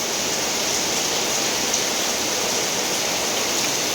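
Heavy rain falls with a steady, even hiss and patter, loud and unchanging throughout.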